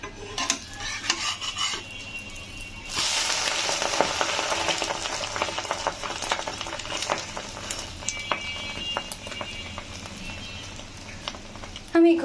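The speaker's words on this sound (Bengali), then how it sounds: "সকাল সকাল ডিম ভাজি করতেছি।" Eggs fry in a pan in the morning, hissing and sizzling close up while a utensil scrapes and clinks against the pan, under a person talking.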